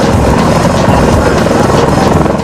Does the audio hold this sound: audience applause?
no